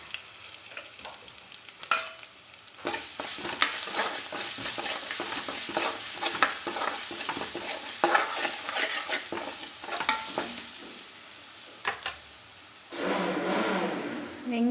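Crushed garlic frying in a hot pan while being stirred, with scraping and clattering strokes over steady sizzle; the frying hiss swells louder near the end.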